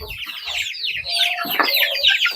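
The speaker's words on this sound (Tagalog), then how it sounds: "Yan yung manok." A flock of chickens clucks and chatters continuously and fairly close, many overlapping calls forming a busy, steady din on a farm that also keeps cows.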